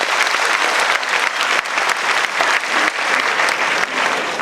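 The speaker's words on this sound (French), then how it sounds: "Sous les applaudissements, s'il vous plaît." Audience applause at a ceremony honouring academic distinctions, a dense, sustained burst of clapping from a sizeable crowd, loud and even throughout.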